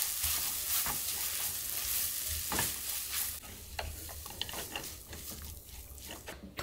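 Seasoned dried squid strips being tossed and mixed in a small baby wok, a steady soft scraping and rustling with light sizzle throughout, close and moderately quiet with a few sharper clicks near the end.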